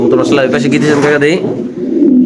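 Pigeons coo at a pigeon farm selling birds with eggs and chicks, a throaty warbling call rising over a steady murmur of voices and then fading into the crowd noise.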